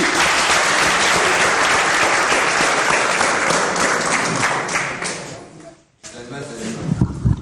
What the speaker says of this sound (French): J'aimerais bien qu'on applaudisse cette fois pour Tintin et Minzo